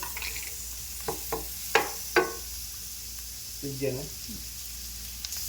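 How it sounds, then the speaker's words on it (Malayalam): A large onion with ginger and garlic fries in a pan for spicy pasta, making a faint, soft sizzle under a few light spoon taps and knocks, with a voice speaking briefly. "അതിലേക്ക് നമ്മൾ ഒരു വലിയ സൈസ് സവാള ഇട്ട് കൊടുത്തിട്ടുണ്ട് ഇത് നന്നായിട്ട് വയറ്റിയെടുക്കാം"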